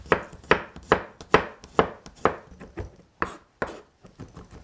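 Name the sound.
chopping vegetables (garlic, onion, carrots) with a knife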